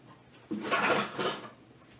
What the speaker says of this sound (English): Get the old lid for your pot, pop it on there, let it cook.